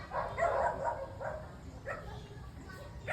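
Several dogs bark in scattered, distant yaps across a residential neighborhood, faint against a steady outdoor noise floor with no nearby voices.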